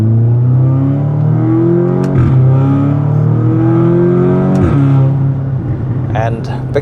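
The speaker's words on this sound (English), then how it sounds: "Today we have another opportunity to drive the 8V2 Audi S3" A 2017 Audi S3 (8V2) engine revs while driving, heard from inside the cabin as a loud steady drone whose pitch climbs through the gears with two clear shift breaks, under a voice talking.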